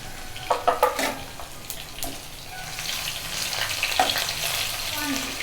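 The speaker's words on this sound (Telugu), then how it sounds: "వెల్లుల్లి వేగిందండి" Crushed garlic and a little cumin sizzle in a pan, opening with a few sharp clattering stir strokes and then settling into a steady, moderately loud frying hiss.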